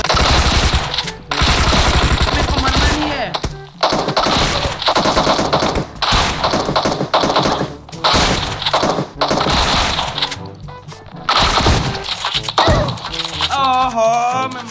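Sustained machine gun fire in the mobile shooter game Free Fire, loud and near, rattling in long continuous bursts with brief gaps, with a person talking over it.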